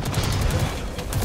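Gunfire in the video game Destiny 2, a rapid burst of repeated sharp shots in quick rhythm, loud and close.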